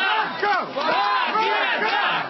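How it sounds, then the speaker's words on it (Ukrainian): A triumphant crowd of a politician's supporters cheers its victory, with many voices shouting together in loud, rhythmic chanting that rises and falls close by without pause. "Натовп тріумфує."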